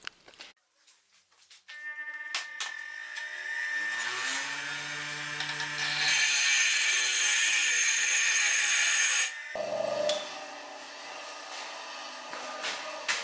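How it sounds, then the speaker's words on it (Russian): A weak bench grinder grinding metal spins up with a rising whine, then a steady loud grinding roar holds before dropping off and continuing more roughly. "Давайте я попробую все-таки проточить на наждаке."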